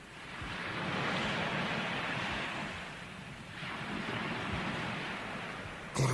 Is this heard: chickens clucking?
no